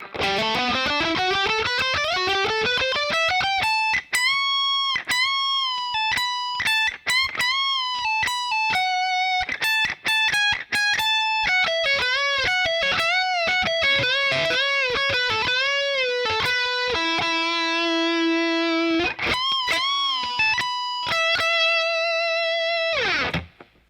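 A distorted electric guitar plays the fast, continuous solo lead line from a song, with quick note changes and bends, loud and unaccompanied throughout.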